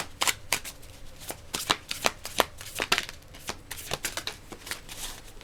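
A tarot deck shuffled by hand, steady crisp card flicks and riffles repeating rapidly throughout, close and moderately loud, with no voices.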